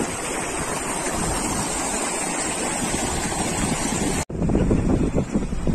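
Water rushes down a ravine in La Serena as a steady, loud broadband roar mixed with wind buffeting. Partway through there is an abrupt cut, and the flow then comes back louder, with no voices.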